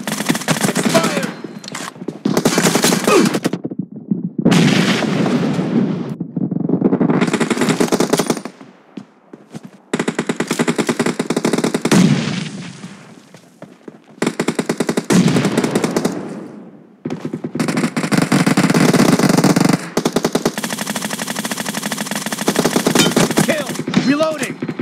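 Sustained automatic gunfire in the mobile shooter PUBG Mobile during a team deathmatch: long, loud, rapid bursts broken by short silent gaps between volleys.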